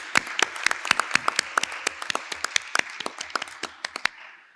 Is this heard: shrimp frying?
no